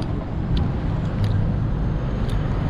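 Steady low rumble of vehicles idling and moving through a car park in Crawley, a continuous close traffic drone with a few faint clicks on top.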